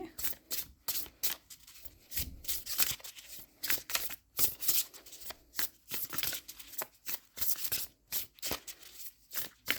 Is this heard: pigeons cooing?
no